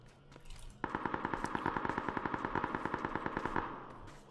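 Automatic gunfire in the video game PUBG: a sustained burst of rapid, evenly spaced shots lasting about three seconds, loud and close with a slight echo, following a quieter stretch of ambient game sound.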